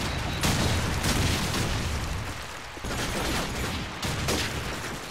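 A bomb explosion and surrounding combat from the Call of Duty 4 video game come through as dense, rumbling bursts with a couple of sharper blasts, fairly quiet and continuous, no talking.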